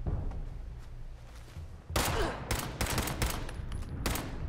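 Gunfire in the video game Fallout 76: after a quieter stretch, a loud burst of rapid automatic shots breaks out, followed by several more sharp volleys in close succession.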